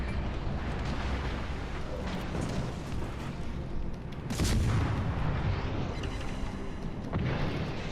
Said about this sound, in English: our cannon just bounced off of him